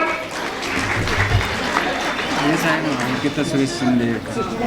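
An audience claps loudly for a prize winner at a jeweller's prize-giving event in Pandharpur: steady, dense applause throughout, with a voice speaking over it.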